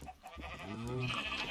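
Sheep bleating in the Minecraft video game, a few wavering bleats rising over a soft continuous background, fairly close and moderately loud.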